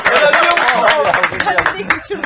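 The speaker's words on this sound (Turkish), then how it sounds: "Alkış." A studio audience on the Turkish quiz show Kim Bilemez applauds in a dense, continuous burst of clapping, loud and close throughout.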